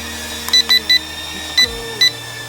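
Steady high-pitched electric whine from the motors of a PowerExtra Pro KF K601 mini toy drone adjusting for wind, punctuated by several short beeps, with a low hum shifting in pitch partway through.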